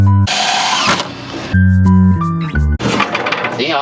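A power drill drives screws into the wood of a vintage window planter box, with a long steady whine and then several shorter stepped bursts of motor and screw grinding, loud and close, with no talk.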